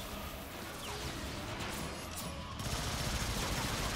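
Shotgunners in Transformers: Fall of Cybertron unleash a dense, continuous barrage of game gunfire, with crashing impacts and whooshes packed close together at steady volume.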